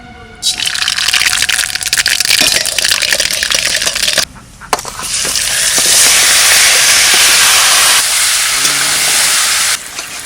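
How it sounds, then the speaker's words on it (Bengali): Mustard seeds sizzle in hot oil for tempering, a loud, steady, crackling hiss that drops out briefly partway through, then returns even stronger and runs on to near the end. "এবার তেল দিয়ে দিচ্ছি। ফোড়নে দেবো সর্ষে"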